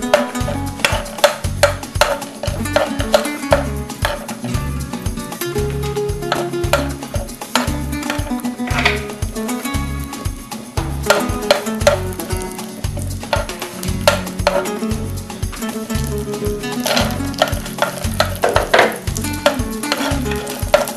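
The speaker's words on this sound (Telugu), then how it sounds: "ఇప్పుడు మనం కాజు ఫ్రై చేసుకుందాం." Cashews frying in a pan, with rapid rhythmic scraping and clattering of a spoon stirring them against the metal over a constant loud sizzle, no one speaking.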